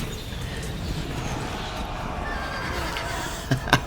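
A horse whinnies briefly near the end amid a steady battle din in the Viking Sea Kings game, loud for a moment above the continuous noise.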